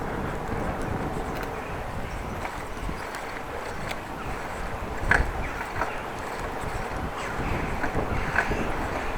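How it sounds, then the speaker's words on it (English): Outdoor wind rushes and buffets steadily past a cyclist riding through Groningen streets, with a continuous low rumble and occasional louder gusts throughout. "See a little bit more wind than yesterday."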